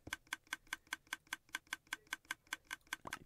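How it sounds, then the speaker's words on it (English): Redstone in Minecraft clicking in a steady, even rhythm of about fourteen crisp ticks, close and alone with no talk, on an underground vanilla server build. "I hear a bunch of clicking."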